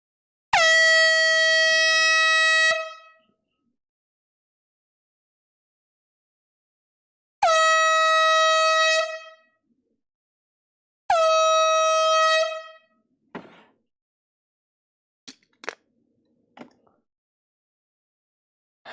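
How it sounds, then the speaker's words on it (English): Air horn blasts, used to mark a sale during a live vinyl record auction stream: three long, loud, steady tonal honks, each a few seconds long, followed by a few short clicks and taps. "I don't mind wearing out the air horns"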